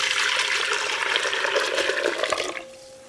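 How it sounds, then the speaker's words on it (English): Chicken broth is poured back into the pot used to cook chicken legs, a steady, splashing stream of liquid that stops abruptly near the end, close and fairly loud. "So I poured the chicken broth back in the pot that I was cooking the chicken legs in"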